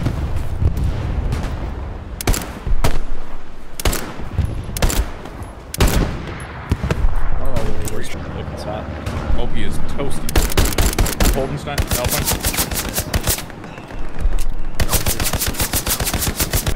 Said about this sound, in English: I shot this guy so hard.